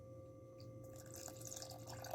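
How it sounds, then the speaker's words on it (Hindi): Water is poured into thick raita yogurt, producing a faint, soft trickle and light dripping close by in a quiet kitchen. "इसमें थोड़ा सा पानी ऐड करेंगे"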